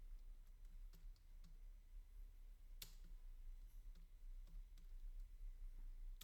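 Computer keyboard typing while coding, soft, quiet key clicks in irregular bursts with one sharper click, low background hum, no voices.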